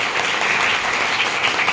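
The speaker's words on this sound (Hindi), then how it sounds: "तो मैं चाहूंगा सभी के लिए धमाकेदार तालियों पर होना चाहिए।" A seated audience bursts into brief, dense applause for a speaker at a Hindi talk session, a loud and steady roar of clapping with no voices over it.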